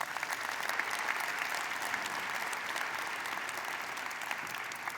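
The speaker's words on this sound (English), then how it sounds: "Let's give them all a round of applause." Steady applause from the audience at a university mid-year commencement ceremony, even and sustained throughout, heard from a distance at moderate volume with no talk over it.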